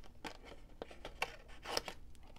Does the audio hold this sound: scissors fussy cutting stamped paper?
yes